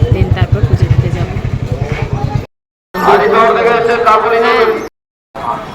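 Motorcycle engine pulling in to park at the crowded Dakshineswar temple on a winter morning, a close pulsing putter that fades into steady mechanical noise, with brief cut-outs and people talking in the background.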